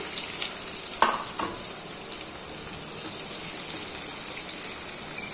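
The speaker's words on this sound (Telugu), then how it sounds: "ఆయిల్ హీట్ అయిన తర్వాత ఆనియన్స్ వేద్దాం" Onions frying in hot oil in a pan, making a steady close sizzle with a brief clatter near the start and no talking.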